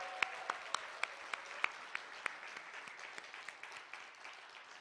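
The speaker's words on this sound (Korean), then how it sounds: "우리 이재명 후보께 열렬한 환호의 박수 다시 한번 부탁드리겠습니다" A crowd at a women's committee rally for presidential candidate Lee Jae-myung applauds steadily, a wash of many hands with a few louder individual claps standing out, somewhat distant.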